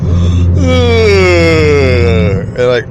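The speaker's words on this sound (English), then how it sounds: "I'll yawn, I'll do a big yawn" A person lets out one big, drawn-out yawn, a loud groaning voiced stretch that slides in pitch before trailing off with a breath.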